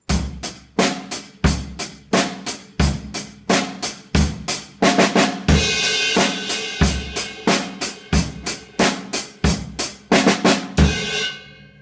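Drums play a steady beat broken up by short fills, each a quick burst of sharp hits, with cymbals ringing out at the end.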